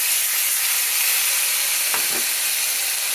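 Thin steak searing in a very hot pan, a loud, dense, continuous sizzle close by with one brief scrape or knock partway through.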